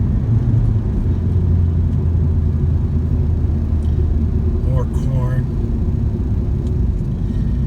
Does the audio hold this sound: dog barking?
no